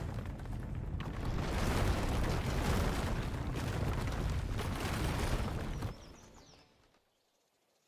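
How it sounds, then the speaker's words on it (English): Earthquake in the video game Land of the Vikings, a loud, steady rumbling roar that holds for about six seconds, then fades away into near silence. "Please, earthquake, stop, please."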